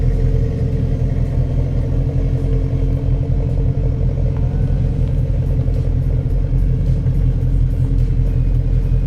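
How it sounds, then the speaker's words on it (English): A GT car with twin loop mufflers and a welded exhaust idles nearby, its exhaust giving a loud, steady, throbbing rumble that carries on without a break. "the twin loop mufflers, they do sound good"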